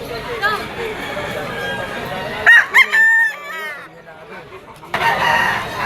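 A Sweater-bloodline gamefowl rooster crows once, loud and close, at a busy pet market in Malabon, with people chattering around it before and after the call.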